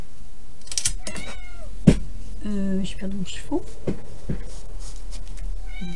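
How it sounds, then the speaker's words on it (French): An indoor cat that wants to go outside meows repeatedly in rising, wavering cries, close by, while a person talks and a few sharp taps sound. "Parce que sinon, vous allez arrêter de l'entendre miauler."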